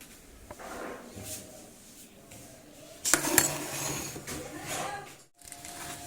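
A hot cake pan is lifted with a cloth and a marble cake taken out of it, giving a sharp metallic clatter near the middle and soft shuffling handling sounds before and after, close by.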